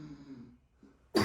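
A person clears their throat with a low rumble, pauses briefly, then bursts into a sharp, loud cough up close.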